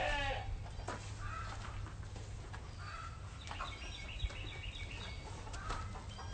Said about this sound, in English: our 8 baby lambs.